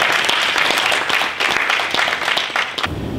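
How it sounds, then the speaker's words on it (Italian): An audience at a talent tour event in Barbarano Vicentino applauds, a dense, steady round of clapping from many hands that holds throughout and cuts off abruptly at the end. "facciamoci un applauso"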